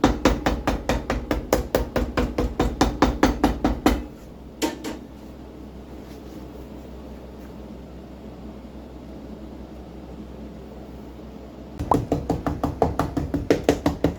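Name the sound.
hammer tapping boot foot bed into place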